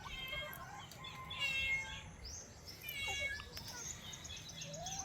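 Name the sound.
cat meowing on a farm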